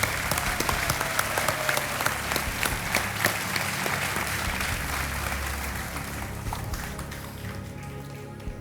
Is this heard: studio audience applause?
yes